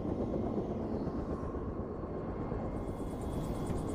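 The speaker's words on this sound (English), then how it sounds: "The helicopter drops Nick and I off a half mile from the bear" A steady, dense rotor drone fills the clip, a helicopter heard from nearby on Hudson Bay with constant broadband rumble and no voices.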